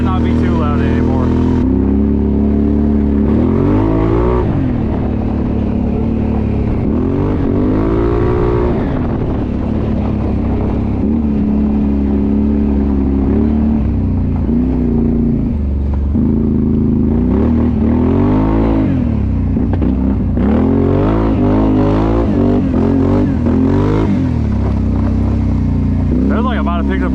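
A loud XMR 570 side-by-side's engine with an RJWC exhaust idling and revving repeatedly, pitch rising and falling, with a person talking over the throaty exhaust.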